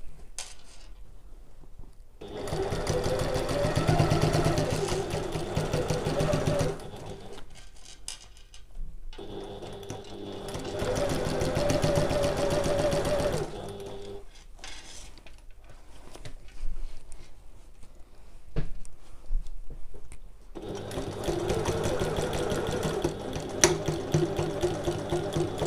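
A sewing machine stitches a large fabric bag in runs of steady mechanical whirring, separated by short quiet pauses as the fabric is shifted, heard close and fairly soft with no talking.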